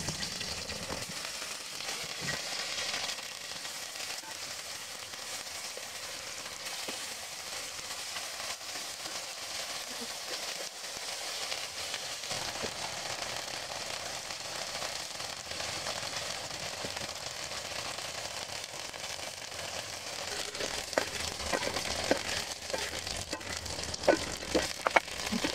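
Tofu fries in a hot pan with a steady, close crackling sizzle that runs throughout, bursts of popping growing louder toward the end, with no talking.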